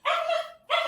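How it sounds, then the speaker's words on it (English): A dog barks twice indoors, two loud, close, slightly hoarse barks separated by a short pause. "Sorry, that's my dog."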